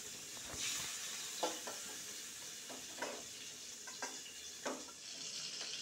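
Prawns fry in oil in a wok, giving a faint, steady sizzle broken by a few short bursts of stirring or spattering.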